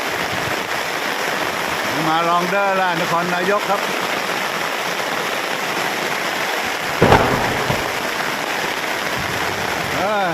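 Heavy rain pours in a steady, dense roar throughout, with a sharp crack of thunder partway through; someone speaks briefly over the downpour.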